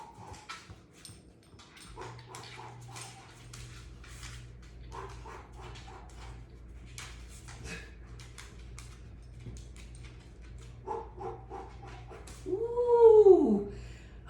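Pet dogs whimper and yip indoors during a home Pilates abs workout, with a steady low hum throughout and a louder, rising whine near the end.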